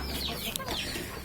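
Chickens cluck softly over a steady low background hum, with a brief sharp chirp partway through; the sounds are faint and fairly close.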